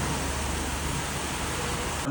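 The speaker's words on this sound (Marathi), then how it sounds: "फुल पाऊस चाललाय" Heavy rain falling steadily, a dense broadband hiss that holds even and unbroken throughout, with a faint low rumble underneath.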